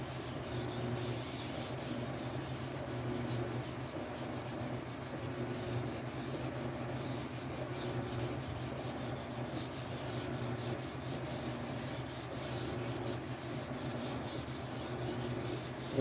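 Steady rhythmic sanding, abrasive paper rubbing back and forth over the clear coat of a Telecaster guitar body for a long stretch, close and even, with a faint hum of a washing machine and fan behind.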